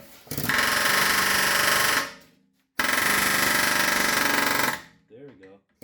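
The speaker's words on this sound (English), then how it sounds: "Now we get our air hammer." An air hammer hammering at a stuck rear shock bolt on an Audi A4 B8: two loud, sustained rattling bursts of about two seconds each, close up, separated by a short pause, with brief voices afterward.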